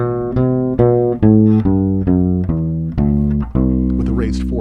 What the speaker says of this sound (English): it sounds like C Lydian sounds like this.